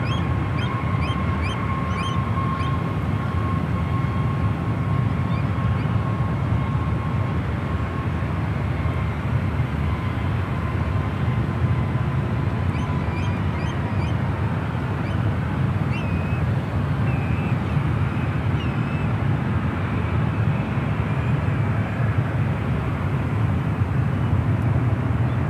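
A jet airliner, an A380 or a 777, at San Francisco airport gives a steady, distant broadband roar that holds for the whole stretch, with some wind rumble and no talk.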